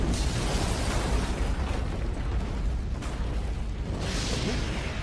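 Explosion in the video game One Piece Pirate Warriors 4, set at Marineford: a dense, roaring blast with heavy low rumble that stays loud throughout, with a sharper burst near the end.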